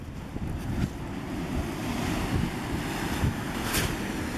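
Ocean surf washes steadily along the snowy coast near Hotel Budir, a continuous broad rush mixed with gusty wind buffeting the microphone, with no one speaking.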